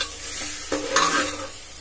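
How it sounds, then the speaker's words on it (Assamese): Rice toasts in a pan for jeera rice, giving a short burst of sizzling and stirring scrapes that rises and swells briefly near the middle, close and alone. "অকণমান সময় ভাজিব লাগিব"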